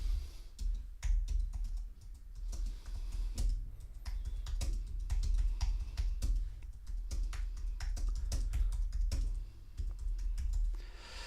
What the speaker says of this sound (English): my typing's getting a bit quicker